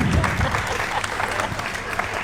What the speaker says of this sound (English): just what about a big round of applause